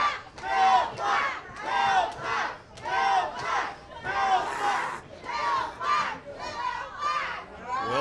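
A wrestling crowd at a Canadian independent wrestling show roars and chants in loud, rhythmic waves of shouting, about a dozen surges rising and falling one after another.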